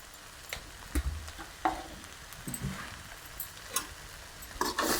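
Semolina is stirred into stingray fish pittu in a pan, giving soft scraping and faint sizzling with scattered light ticks and knocks, quiet and close with no talk.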